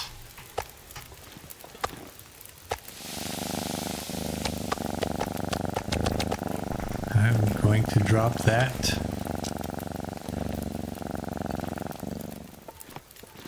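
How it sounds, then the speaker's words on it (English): A cat purrs steadily and close up in the survival video game The Long Dark, a low continuous rumble running under a man's speech. "Who's purring?"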